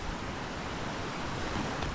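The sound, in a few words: sea waves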